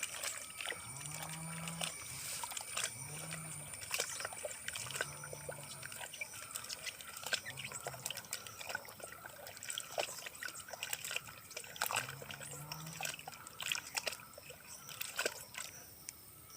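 Fresh cow dung being mixed into about four litres of water in a plastic bucket, giving wet sloshing and trickling sounds that continue steadily up close, with no talking.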